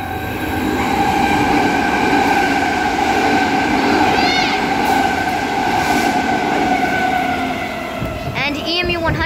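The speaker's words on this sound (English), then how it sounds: "Now about to pass platform 2, we have the last news train for the morning." A Transperth EMU electric train, EMU 55 leading, passes a station platform at Currambine, a loud steady rumble with tonal motor whine throughout and brief wheel or brake squeals near the end.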